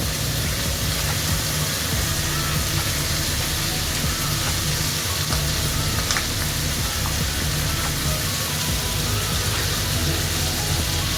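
Salted capsicum and other vegetables fry in oil in a pan, giving a loud, dense, unbroken sizzle that holds steady from start to finish, close by.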